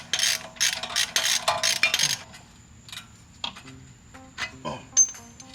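Metal tools clink and rattle while strut bolts are undone on a Mustang's worn stock strut, giving a quick burst of ratchet-like clicking followed by scattered sharp metallic taps and clanks, close up.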